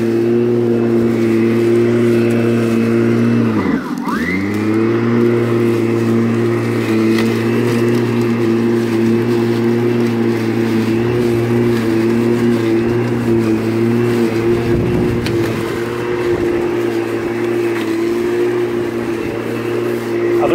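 A Flymo Mighty Mo 300Li cordless lawn mower cutting long grass, its electric motor humming steadily and close with a short dip in pitch as it bites into a thick patch, then a loud, even whine resuming.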